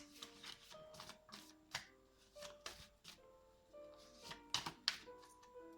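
Tarot cards drawn and shuffled from a deck, quiet papery flicks and slaps in short bursts under soft background music.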